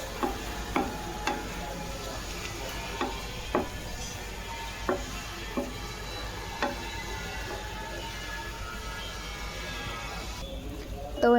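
Meat with turmeric and spices is stirred in a pan, with a steady low sizzle and spoon scrapes and knocks against the metal at irregular intervals, close and moderately loud.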